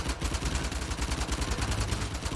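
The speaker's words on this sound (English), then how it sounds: "Just gotta kill 20 enemies while I'm blind firing." Rapid blind-fire gunshots in Uncharted: The Lost Legacy, a continuous loud burst of automatic shots in a fast, even rhythm with no speech over it.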